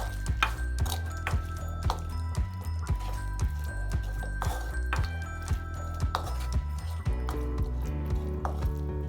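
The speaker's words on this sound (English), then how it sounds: "Now mix these ingredients in the pachadi properly." Ingredients being mixed into gongura pachadi, a tangy sorrel-leaf chutney, giving repeated soft clinks and scraping of a utensil against a dish in a steady rhythm, close and moderately loud with no talking.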